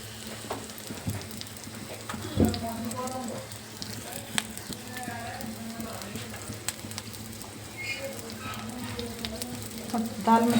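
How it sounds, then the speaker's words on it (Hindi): Spices tempering in desi ghee for a lentil dal tadka on low heat, a steady close sizzle and crackle with a few clinks, with some background voices. "दाल में तड़का लगाते हैं"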